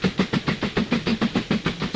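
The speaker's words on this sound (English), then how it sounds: "Still a steam train." Prussian T3 steam locomotive running in the Mashinky train game, giving a fast, even chuff about five beats per second, loud and close, with no talk over it.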